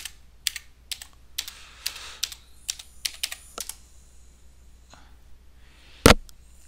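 A password is typed on a computer keyboard, a close series of crisp key clicks in uneven bursts, ending after a pause with one louder, heavier keystroke.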